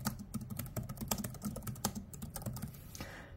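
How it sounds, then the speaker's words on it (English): Keys on a Lenovo Flex 3 15.6-inch Chromebook are typed in a quick, fairly quiet run of close, crisp clicks and taps lasting a few seconds, with no talking. "I do find typing on this thing to be pretty decent."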